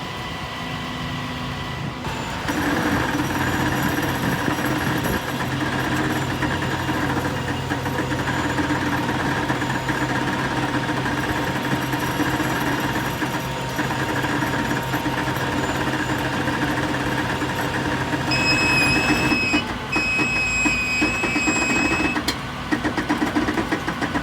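A light duty wrecker's engine idles steadily while winching, a continuous close rumble with a droning hum, later joined by higher whining tones from the winch as the load pulls.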